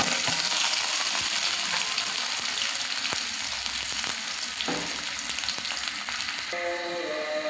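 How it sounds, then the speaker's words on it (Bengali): Chopped onion and garlic frying in hot oil for a spinach stir-fry, a loud, dense hiss and crackle with occasional stirring scrapes, steady throughout with a faint tone entering near the end. "তেলটা গরম হয়ে গেছে, এখন পেঁয়াজ কুচি আর রসুন কুচিগুলো আমি দিয়ে দিব"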